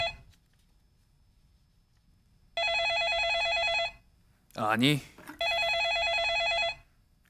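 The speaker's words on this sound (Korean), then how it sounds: "연결해 보겠습니다. 전화 걸어보죠." Two long bursts of a telephone ringback tone, evenly pulsed and fairly loud, separated by a pause in which someone briefly speaks; placed while dialing a call during a Korean TV news talk show.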